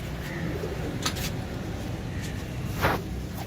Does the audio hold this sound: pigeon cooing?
yes